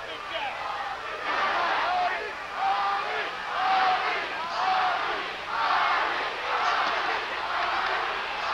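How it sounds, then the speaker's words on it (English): A boxing crowd at the Larry Holmes vs Muhammad Ali heavyweight fight roars and chants in loud rhythmic surges that swell and fall repeatedly, a massed arena din with voices blending into rising waves. "crowd screaming, chanting, Ali, Ali."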